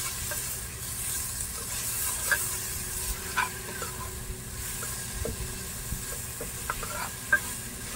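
A ginger paste mixture for fish mandi sizzles in a hot pan while a spoon stirs it, with soft scrapes and occasional clinks over a steady frying hiss.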